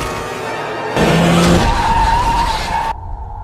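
A car skids with a loud tire squeal and strikes a boy who has rolled onto a road in a film scene; the screech rises abruptly, holds steady for about two seconds, then cuts off sharply.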